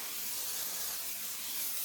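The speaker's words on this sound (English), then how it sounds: "So steam the top surface and then do the underside as well, wiping as you go." A steam cleaner blasting a toilet seat gives off a steady, loud, breathy hiss that holds constant throughout, with no talking.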